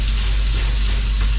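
Onion and tomato sizzle in hot oil for monggo with bitter gourd leaves, a loud, steady hiss of frying with a constant low rumble underneath, no voices.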